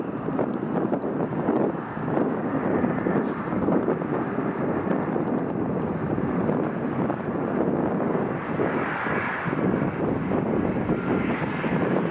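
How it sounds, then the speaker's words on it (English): An Air Baltic Airbus A220 airliner from Amsterdam at snowy Riga International Airport, a steady loud jet engine roar with wind buffeting the microphone, continuous throughout. "here's the Air Baltic A220 from Amsterdam, from Schiphol."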